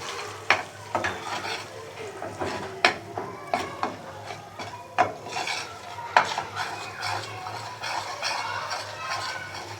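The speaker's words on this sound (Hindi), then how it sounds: "सही से इसको चलाते रहेंगे ताकि बेसन लगे नहीं और भुनता भी रहे।" Gram flour roasting in ghee on low heat while being stirred with a spoon in a pan. Repeated scraping clinks and knocks land over a soft, constant sizzle, close up and with no talking.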